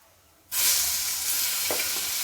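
Tomato and chillies hit hot oil in a pan with a sudden loud, steady sizzle that carries on without a break, along with faint stirring scrapes.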